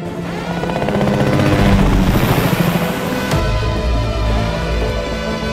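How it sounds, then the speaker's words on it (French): A helicopter in the Fortnite video game roars in with loud, steady rotor thumping that swells and peaks, then shifts abruptly to a lower, continuous drone. "Hélico en approche. Je répète, hélico en approche."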